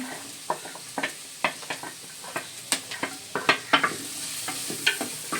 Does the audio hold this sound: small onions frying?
yes